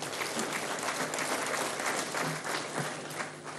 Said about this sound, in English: I think we can do better by clapping for the Nigerian people.